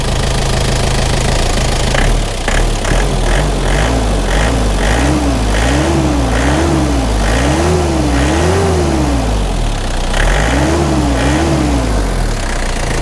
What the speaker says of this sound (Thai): เดี๋ยวผมเร่งเครื่องยนต์เนาะเดี๋ยวเร่งเครื่องยนต์ให้ดูแล้วกัน